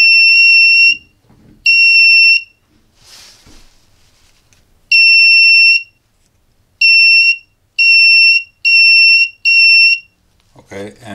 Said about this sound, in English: Next, the buzzer